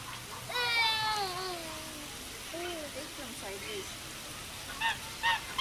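Ducks give several loud, nasal quacking calls, some drawn out and some short, with a pause between them and a few sharp final calls, under occasional nearby voices.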